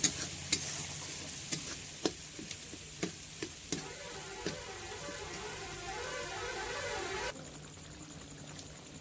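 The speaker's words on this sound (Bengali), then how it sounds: "মশলাটা কষা হয়ে গেছে এটাকে আমি এখন নামিয়ে রাখি" Spice paste being sautéed in a pan in a home kitchen while making vegetarian khichuri, a steady close sizzle with repeated scraping stirs that fade into a softer sizzle near the end.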